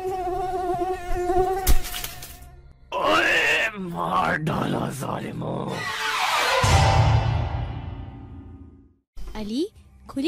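A cartoon dengue mosquito buzzes loudly with a whining drone that rises and falls in pitch. The buzzing is interrupted by animated voices speaking and groaning, then trails off and briefly returns.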